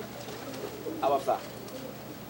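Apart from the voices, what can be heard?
Golden Donek pigeons cooing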